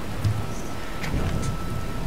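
Rain pours steadily in Tomb Raider while distant thunder rumbles underneath, with a couple of brief gusts or splashes rising over the constant wash of drops.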